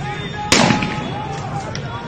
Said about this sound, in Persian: تیراندازی کردن تیراندازی کردن